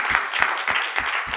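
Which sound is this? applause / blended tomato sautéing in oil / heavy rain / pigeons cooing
applause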